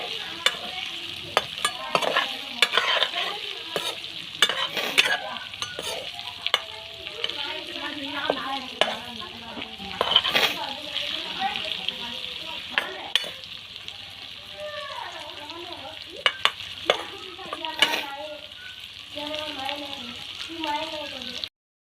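Fish pieces in hot oil with dried chillies, stirred now and then, giving a steady sizzle broken by repeated scraping and clatter strokes at close range, with a voice speaking intermittently throughout.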